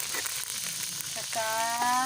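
Tinapa, smoked fish, goes into a hot frying pan of vegetables, bursting into a close, loud sizzle that builds and brightens over about two seconds.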